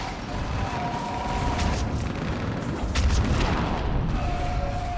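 Artillery fire support in Mass Effect 3 rumbles as a dense, continuous barrage of booms and explosions, loud and sustained with no clear gaps, faint tones drifting over the din.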